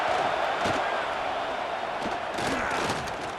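Crowd at an Arkansas Razorbacks vs. Notre Dame college football game in a stadium, a loud continuous roar of cheering with a few sharper bursts rising through it.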